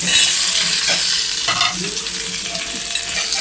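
Mangoes with salt and turmeric sizzle steadily in a pan, a dense, loud frying hiss with a few soft stirring scrapes, for a Tamil New Year meal.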